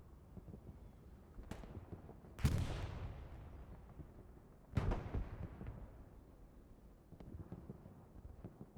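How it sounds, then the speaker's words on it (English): Gunfire and explosions from a World War II shooter match in Hell Let Loose: two heavy booming blasts with long echoing tails, plus scattered sharper distant shots in between. "Excellent first person shooting going on here."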